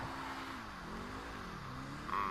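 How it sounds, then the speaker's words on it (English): Rapid GT Classic sports car in GTA 5 Online giving a steady, droning exhaust note with a low engine tone that rises and dips slightly, heard alone and fairly constant throughout. "This thing has a nice exhaust note."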